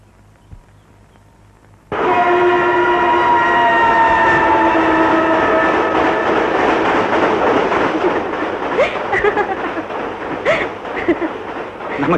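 A train passes close by in a Tamil film scene, starting abruptly as a loud, steady rumble with clattering wheels and sustained horn-like tonal blasts, then gradually easing while the roar continues to the end.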